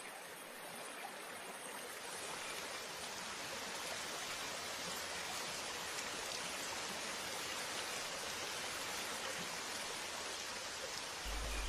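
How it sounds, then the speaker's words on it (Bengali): Steady rain falling outdoors, a dense even hiss of drops that swells in the first seconds and then holds constant and fairly loud with no other sounds. "আরে এই তো বৃষ্টি চলে এসেছে।"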